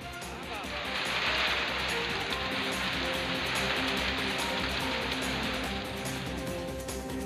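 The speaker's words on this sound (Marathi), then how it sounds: "विजेचा कडकडाट आणि वादळी वाऱ्यासह जोरदार पावसानं हजेरी लावली" Heavy unseasonal rain with stormy winds in the Niphad and Pimpalgaon Baswant area, a steady dense hiss of downpour on surfaces lasting throughout, with a voice speaking over it.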